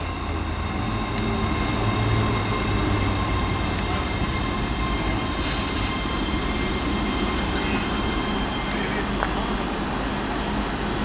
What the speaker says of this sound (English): arriving into Stirling's platform 9 now is the 1054 ScotRail service from Alloa to Glasgow Queen Street